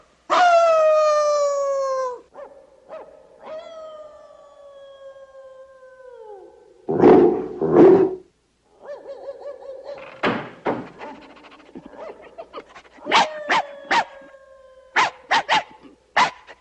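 Dogs in a film soundtrack howl long and high at the start, then bark in scattered bursts and a few muffled thumps, with several sharp yelps near the end, sounding from different distances.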